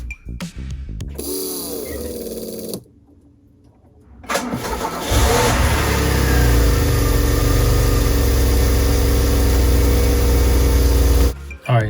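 A DeLorean engine cranks briefly, falls silent, then catches and roars into a loud, steady idle that runs close by for several seconds before cutting off.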